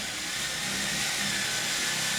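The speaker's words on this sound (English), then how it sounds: "I use a 30 mm wide wood drill to make the holes." A 30 mm wood drill bores holes in wooden crossbeams, giving a continuous loud, close, broadband whir with a steady grinding texture and no break or talk.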